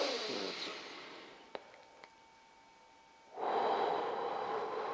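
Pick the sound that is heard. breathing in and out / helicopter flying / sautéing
breathing in and out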